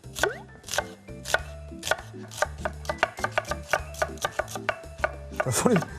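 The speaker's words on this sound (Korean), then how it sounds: "그렇게 경쾌하게 지금 칼질하는 소리가" Brisk, rhythmic knife chopping of chili peppers on a cutting board, close and continuous, with evenly spaced sharp strikes.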